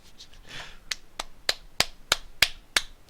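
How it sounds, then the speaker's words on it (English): A lone person claps or snaps in a slow, sharp series of about eight distinct, evenly spaced strikes, close and fairly quiet, with a soft rustle at the start. "That is clapping"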